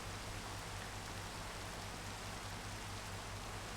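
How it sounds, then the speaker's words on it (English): Steady rain falls in the Minecraft video game, a soft, even hiss with a faint low hum beneath it and no other sounds. "rain sound around here"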